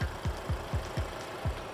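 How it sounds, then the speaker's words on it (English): An inline four-cylinder car engine paired with an eight-speed automatic, making 325 horsepower, idles close by with a regular low pulsing thump, about four beats a second, steady and without talk. "Inline 4-cylinder engine, made it to an 8-speed automatic transmission, making"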